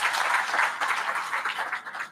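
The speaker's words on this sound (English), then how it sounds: "A round of applause for Dr." Applause from a conference audience at a health plenary session welcoming a panelist, a steady dense patter of clapping throughout, fairly close and even, with no talk over it.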